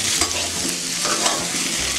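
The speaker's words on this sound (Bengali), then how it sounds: "আলুগুলো আমি 2 মিনিট ভেজে নেবো, আর একটু লাল লাল করে" Potato pieces fry in a hot pan as the start of a koi fish curry with cauliflower, a loud continuous sizzle broken by the scrape and clatter of stirring, with no talking.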